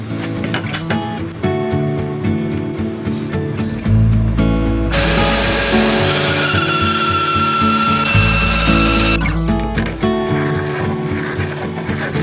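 Wooden panels being power-sawn for the housing of a homemade bubble machine, a loud sustained cutting whine that rises in two long stretches amid shorter workshop tool noise, with no talk.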